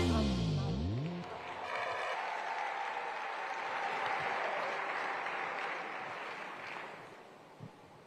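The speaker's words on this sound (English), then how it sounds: "One more time, a big round of applause for Jackson Penduka tafadhali." An audience at an outdoor food systems forum applauds after a song, a broad wash of clapping that swells after a brief tone and holds steadily for several seconds, somewhat distant and mixed with wind noise.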